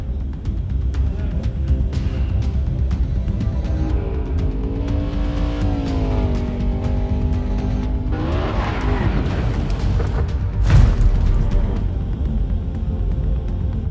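A racing car in the video game Grid Legends roars loudly throughout, engine pitch climbing and falling through gear changes, then a sudden harsh crash impact near the end before the engine noise carries on.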